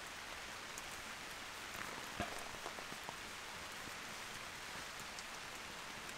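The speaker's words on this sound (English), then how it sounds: "now he knows it's raining." Rain falling on an MSR Hubba Hubba NX 2 tent during camping, a soft, steady patter of drops on the fabric with a few sharper individual hits, quiet and continuous.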